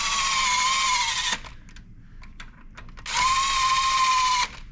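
A power tool runs cylinder head bolts down on a 2014 Dodge Avenger 2.4L engine: two steady whirring bursts of about a second and a half each, separated by a pause with a few light clicks and taps.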